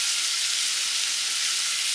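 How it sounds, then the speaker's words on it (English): Onions frying in butter in a pan, a loud continuous bright sizzle that stays even and unbroken throughout, with no talking. "Frying away, we're just going to chuck in our onions to start with."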